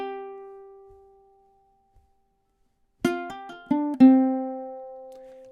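Ukulele plays a short phrase of a duet: a sustained note rings out and fades into near silence, then a quick run of plucked notes follows, ending on a held note, close and clear with no talk.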